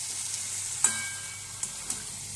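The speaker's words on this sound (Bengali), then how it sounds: "এই মাংসটা কষানোর সময় অল্প আঁচে রেখে ঢাকা দিয়ে দিয়ে কষতে হয়" Chicken meat frying on low heat in a covered pan, a steady soft sizzle with a few brief clinks of the lid or spoon.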